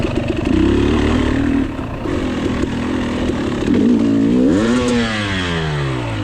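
A KTM 300 two-stroke dirt bike revs hard during a hare scramble race on rocky, rooty terrain, the throttle held wide open, with a loud, close engine whose pitch swings sharply up and down.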